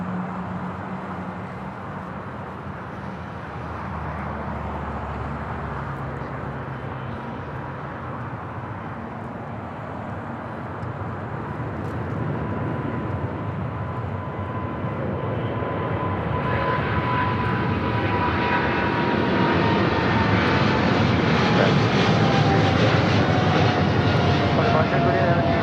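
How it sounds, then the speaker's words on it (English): A China Airlines Cargo Boeing 777 freighter rolls down runway 25 left at Los Angeles airport and lifts off, its engine roar swelling steadily louder and brighter toward the end, with voices talking beneath it. "This is China Airlines Cargo 5382 taking off to Miami on a 777 freighter."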